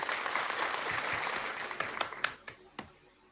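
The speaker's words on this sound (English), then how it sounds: "Let's give him a big round of applause." Faint, thin applause from a small group on a podcast, a brief patter of clapping that thins into a few isolated, sharper claps before fading out.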